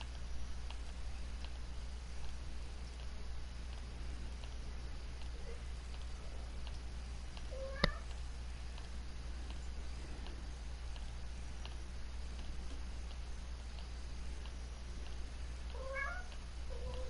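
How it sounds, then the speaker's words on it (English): A domestic cat meows a few times, faint and in the background over a steady low hum, with short calls spaced apart across the stretch. "My cat's talking."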